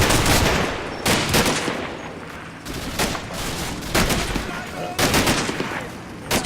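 Explosions and rapid gunfire from a Combat Mission Normandy battle come in loud bursts roughly every second, separated by quieter crackling gaps.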